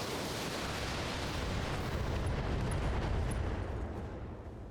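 Missile barrage explosions in the mech strategy game Battletech, a dense, steady roar of overlapping blasts and rumbling impacts that holds at full strength before easing slightly at the end.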